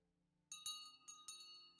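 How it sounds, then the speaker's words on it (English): A service bell rung in the Wild West game Whispers in the West: four bright metallic dings in a quick uneven series, each ringing briefly over a faint low room hum. "I ring the bell."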